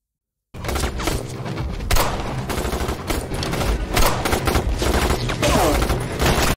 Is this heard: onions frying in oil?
no